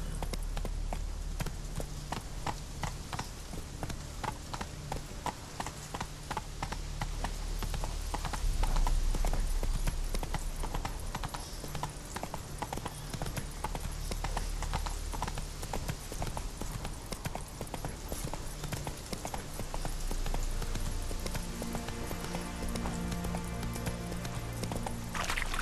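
A horse gallops in The Witcher 3 with steady, fast hoofbeats that keep a continuous clip-clop rhythm throughout, fairly quiet and with no talk.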